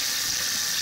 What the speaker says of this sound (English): Just wash them, because you get blades of grass mixed up in there.